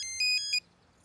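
A telephone rings on an outgoing call, giving four short bright electronic tones in quick succession and then falling silent.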